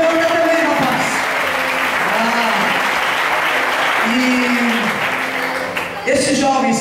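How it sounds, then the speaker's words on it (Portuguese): A church congregation claps in strong, sustained applause, a dense steady patter filling the space throughout, with a preacher's voice rising over it at times. "Dê um forte aplauso ao Senhor"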